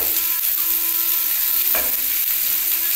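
Nigella seeds and pieces of white eggplant fry in hot oil with a loud, steady sizzle, broken once by a brief stir or scrape partway through. No one speaks.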